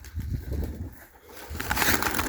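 Turkish Takla tumbler pigeons coo and shuffle, with low throaty cooing near by and a rush of flapping wings toward the end, moderately loud with no voices.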